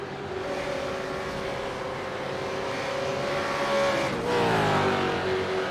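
A V8 race car engine runs steadily on the track at Donington with a strong sustained tone. Near the end the pitch drops as the car downshifts, and the engine stays loud throughout.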